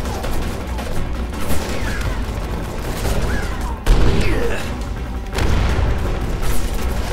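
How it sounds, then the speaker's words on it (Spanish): Gunfire and explosions in Final Fantasy XV, Episode Prompto DLC, during a firefight: loud rattling shots and heavy booms, with a sharp blast near the middle, under game noise. "Allí hay alguien tirando."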